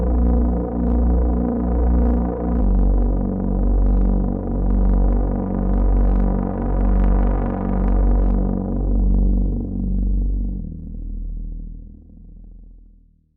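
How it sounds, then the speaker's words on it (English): A monophonic synthesizer holds a deep, tense bass tone whose volume pulses in a slow, regular wobble from an LFO driven by the mod wheel, fading out near the end. "I'm controlling the mod wheel, and I'm running that into the LFO. So it's creating this kind of tension sound."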